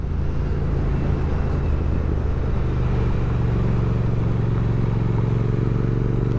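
A 2023 Triumph Speed Twin 1200 being ridden, its engine a steady, loud low drone with wind rush blended in, holding an even, continuous level throughout with no talk.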